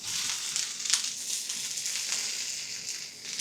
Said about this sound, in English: I like starting by frying the veg first.